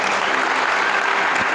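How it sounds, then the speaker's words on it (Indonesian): Loud, dense applause from a seminar audience, a steady wash of clapping hands that fills the moment without pause. "Tepuk tangan buat calon penulis hebat ini."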